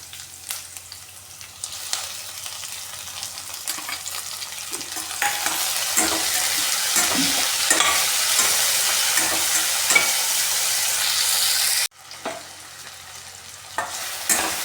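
Onions and tomatoes fry in a pan while being stirred, steady close sizzling broken by repeated scraping strokes of a spoon, louder in the middle and briefly cutting out before resuming, no talk.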